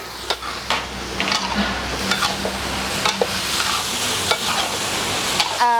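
Vegetables with tomato, cucumber and pineapple stir-fry for a vegetarian sweet and sour dish, giving a continuous loud sizzle broken by repeated spatula scrapes and taps against the pan.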